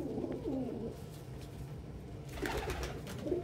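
Young squeaker pigeons squabble and coo indoors, with a few soft throaty coos and scuffling chirps, faint and close.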